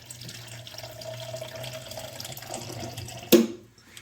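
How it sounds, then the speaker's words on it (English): Water runs from a tap into a drink shaker, a steady soft trickle and hum for several seconds, then a sudden sharp clatter near the end before it fades, with no talk. "I'm gonna put a little bit, 8 ounces of water"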